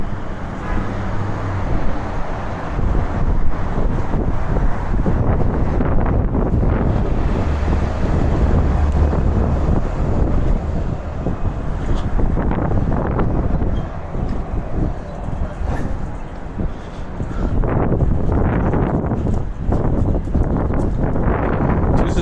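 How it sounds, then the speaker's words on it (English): Wind blowing outdoors on a city neighbourhood street: constant heavy gusting roar buffeting the microphone, with distant traffic rumble underneath and no clear talk. "little windy today"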